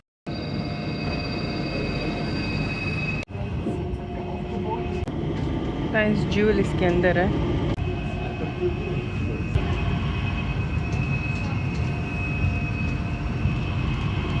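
Changi Airport's inter-terminal train hums steadily during the ride, with a sharp clunk partway through, a chiming announcement tone, and someone talking over the cabin noise.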